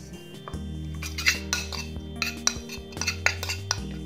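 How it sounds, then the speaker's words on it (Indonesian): A spoon stirs a turmeric and rose water mixture in a bowl, with repeated small clinks and scrapes of metal against the dish over a low background hum. "Lalu diaduk sampai tercampur"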